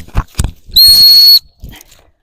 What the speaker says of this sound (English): I'm going to put my whistle in my mouth so I'm ready to blow it.